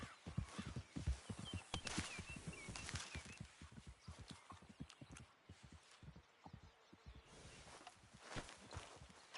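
Horse hooves clop in a video game in a quick, steady rhythm, close and fairly loud, continuing for several seconds with no voices.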